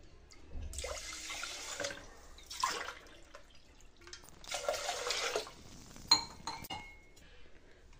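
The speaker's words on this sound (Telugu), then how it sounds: "అదే గ్లాస్తో 2 గ్లాసెస్ వాటర్ని యాడ్ చేసుకోవాలండి." Two glasses of water poured into rice in a pressure cooker, splashing in bursts alongside light clinks of a glass against the cooker, with short pauses between pours.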